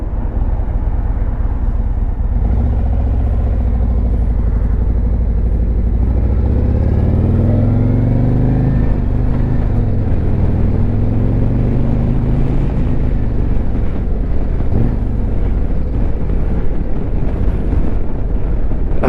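Harley Davidson Road Glide bagger motorcycle ridden up a hill by a first-time rider, a loud low engine drone with audible gear changes and shifting pitch, buffeted by heavy wind noise throughout.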